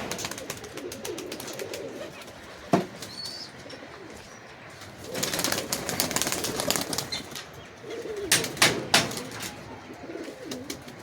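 Pigeons, including Giribaz and Teddy flying breeds, burst into wing-flapping bursts at close range, with a sharp clap early, then longer flurries of beating wings and faint coos between.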